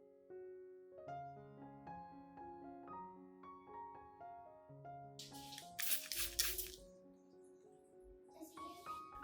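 A spray bottle misting potato peel solution onto a peace lily, two short hissing bursts of spray, the first longer and louder, over soft background music.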